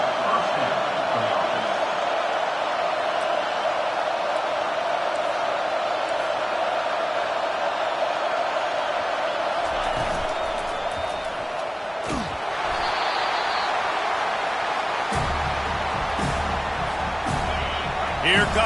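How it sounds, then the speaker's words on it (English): A football stadium crowd roars throughout a game, a steady wall of cheering that swells louder partway through, with brief sharp bangs and shouts rising out of the din. "this crowd is turning it up a notch"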